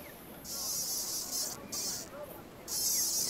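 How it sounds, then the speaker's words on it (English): A cicada buzzes loudly in harsh, rasping bursts that start and stop several times, close by and with no voices. "cicada, of course."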